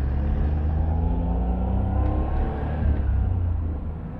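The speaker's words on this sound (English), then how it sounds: "You can hear quite a noisy transmission." A Suzuki Cappuccino sports car's interior drone with a steady low rumble and a whining transmission hum while driving, fairly loud and continuous.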